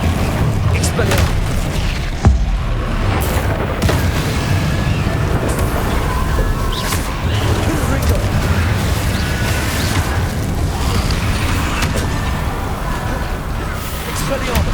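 Spell explosions boom repeatedly in the Hogwarts Legacy game on PS5, a dense continuous barrage of bursts and crackling impacts with one sharp blast early on, loud throughout under a busy mix of combat noise.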